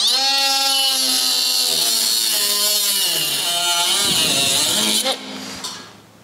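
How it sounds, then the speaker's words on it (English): An angle grinder cuts old attachment brackets off the fender of a David Brown 990 tractor, a loud, close high-pitched whine with shifting pitch under load that drops away sharply near the end as the tool spins down. "I'm going to grind these off"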